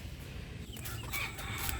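A rooster crows amid clucking chickens, with steady background noise throughout.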